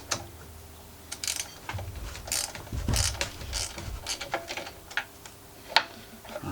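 Screws being undone on the exhaust muffler of a Greppa GC950DC 720W generator, heard as close, intermittent ratchet-like clicks and small metallic ticks over a low background hum.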